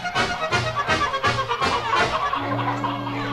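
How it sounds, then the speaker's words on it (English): Chickens squawk and screech loudly in rapid, overlapping bursts, a frantic storybook sound effect that ends on a held, droning cluck. "they ran out of the chicken house and into the street, making so much noise that people came running from their houses"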